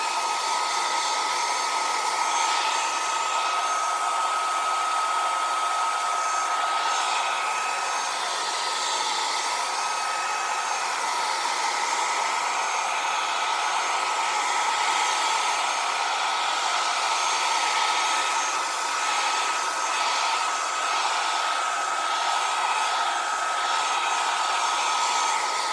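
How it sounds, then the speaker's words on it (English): A blow dryer, used for drying alcohol ink on a craft surface, runs continuously for nearly half a minute. The loud, close, steady whirring drone barely changes throughout, and no one speaks. "So I'm going to take my blow dryer and"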